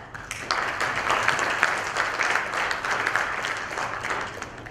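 An audience applauds a presentation finalist at a GTH 2016 event, a steady, full round of clapping from many hands that carries through without pause.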